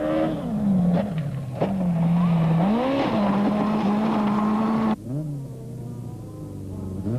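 Toyota rally car at a 2001 dealer rally, its engine revving hard and steady at close range before a sudden cut and drop in pitch, then lower rough running as the car lands off a jump with a broken front suspension.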